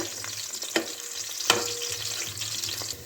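Cubed onions frying in a pan, a steady crackling sizzle broken by two sharp utensil knocks and occasional scraping.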